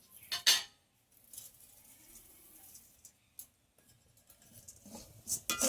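Lightly fried grated coconut is mixed with sugar in a bowl, with a few soft scrapes and clinks of a spoon against the bowl between quiet pauses.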